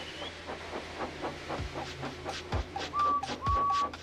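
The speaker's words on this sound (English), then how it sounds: "made lots of steam, and Edward puffed away." Rhythmic chuffing puffs of a steam locomotive repeat at a steady beat, with a short high whistle sounding near the end, somewhat faint and distant.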